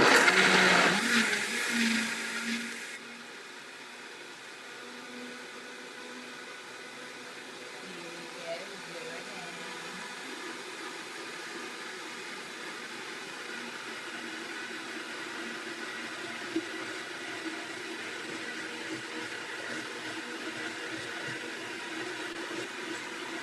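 A kitchen blender runs on high, whirring steadily through a low-carb keto smoothie, loud at first then settling into a constant hum that holds for the rest.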